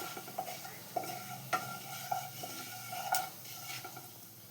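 Whole cumin and carom seeds frying in oil in a pan with chillies, a soft, faint sizzle punctuated by several light clinks and scrapes of a spoon stirring, no talk.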